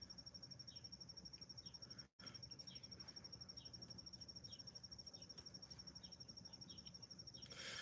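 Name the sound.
cricket chirping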